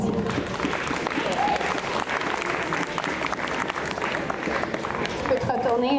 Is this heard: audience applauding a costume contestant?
yes